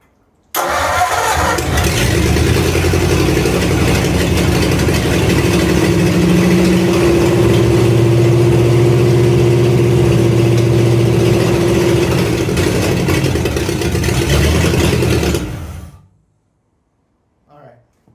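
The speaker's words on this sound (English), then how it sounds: "the motor runs" A barn-find flathead V8 engine rumbles steadily at a loud idle for about fifteen seconds, then cuts off abruptly into silence.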